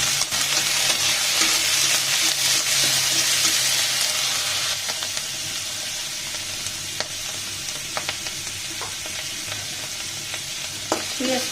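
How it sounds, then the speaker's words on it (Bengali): Chopped onion stalks fry in hot oil in a pan, a steady close sizzle and crackle throughout with occasional spatter pops, fading slightly toward the end; no one speaks. "পেঁয়াজ কলিগুলো আমার ভাজা হয়ে গেছে"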